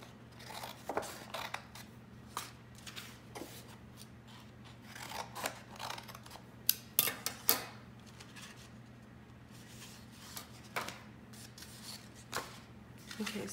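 Scissors snip paper petal shapes from a template in a series of quiet, irregular cuts and rustles over a low steady hum.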